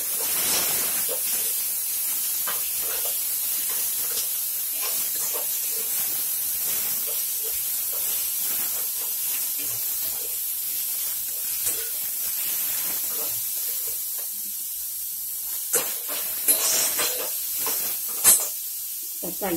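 Tomatoes hit sautéed garlic in a pan for garlic rasam, raising a loud, steady hiss that runs throughout, with scattered crackles and pops growing near the end.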